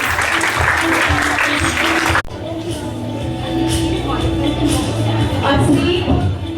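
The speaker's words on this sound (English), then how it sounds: "Please welcome her with a huge round of applause." Loud, dense applause from a school assembly audience welcoming a guest, continuous and close across the whole stretch, with a sharp drop partway through before the clapping carries on under background chatter.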